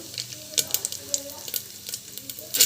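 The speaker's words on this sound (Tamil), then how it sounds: "ஸோ நம்ம வந்து பார்த்திங்கன்னா கடுகு அண்ட் தென் சீரகம், கடலைப்பருப்பு," Mustard seeds, cumin and chana dal sizzle and crackle in hot oil, a close, steady frying hiss with sharp pops and stirring scrapes throughout.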